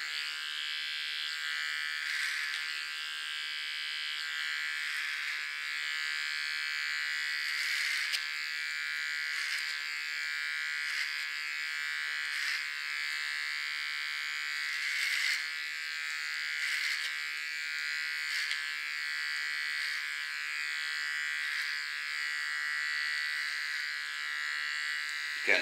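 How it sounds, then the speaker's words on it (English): An electric hair clipper buzzes steadily for a long stretch while cutting and sharpening lines at the nape for an asymmetric pixie cut, a close, even hum with small pulses as it passes through the hair. "I'm going to work with my clipper."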